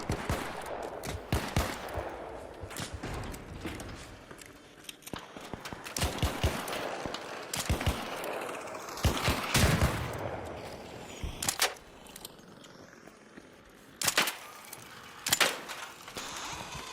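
Video game gunfire cracks out in sharp, loud bursts and single shots, sometimes in quick clusters, with short gaps between them and no voices over the shots.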